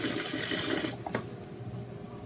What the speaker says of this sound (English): We are going to put a little bit of water in here as well.